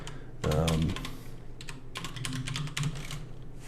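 Rapid keystrokes on a computer keyboard while editing notes in Roam, with a dense loud burst of clicks early on, then steadier, lighter tapping continuing close to the microphone with no talking.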